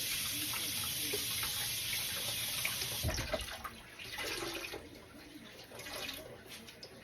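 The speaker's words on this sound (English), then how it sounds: "We're going to saturate our towel in the hot water." Hot tap water runs steadily into a sink while a clean towel is soaked in it, giving a continuous close hiss and splash, with a brief heavier slosh partway through.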